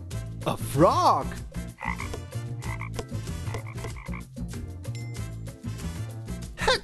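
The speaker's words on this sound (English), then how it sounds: "A frog." Loud frog croaking repeats in a steady pulsing series of raspy calls, close and clear, with no voices over it.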